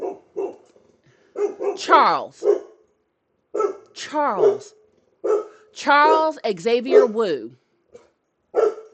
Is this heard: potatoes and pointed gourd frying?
no